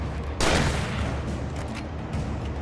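Gunfire in a survival horror video game, one loud blast followed by a dense, sustained roar of shots lasting a couple of seconds.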